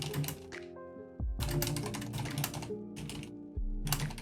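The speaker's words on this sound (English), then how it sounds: "I'm typing it out in a way that I will remember this for next time" Typing on a computer keyboard, with rapid bursts of clicking keystrokes separated by brief pauses over a steady background tone and thumps, close and fairly loud with no talk.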